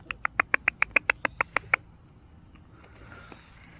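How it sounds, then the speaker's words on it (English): Hens and roosters let out a quick, evenly spaced run of about a dozen sharp squawks close by, then fall quiet with only faint background sound. "And the hens and the roosters are all preening."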